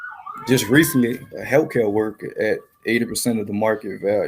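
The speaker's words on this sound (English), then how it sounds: "I apologize for the siren in the background." An emergency siren wails faintly in the distance behind a man's continuous, close speech, mostly buried under the talking.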